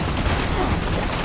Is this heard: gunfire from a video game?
yes